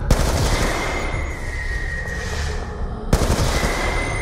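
Sustained rapid automatic gunfire in the Call of Duty Black Ops 2 video game, loud and continuous, with a sharp burst near the start and another toward the end.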